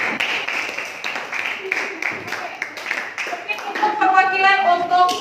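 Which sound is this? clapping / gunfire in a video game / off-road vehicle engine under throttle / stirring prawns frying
clapping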